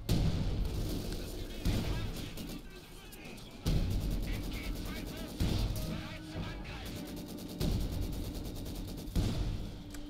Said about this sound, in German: Artillerie-Sperrfeuer durch die Pack.